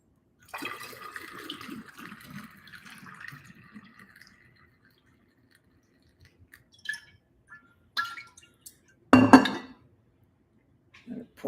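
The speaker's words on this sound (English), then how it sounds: "Pour a little more in here." Kombucha is poured into a container, a short run of liquid splashing followed by scattered glass clinks and knocks, the loudest clatter near the end.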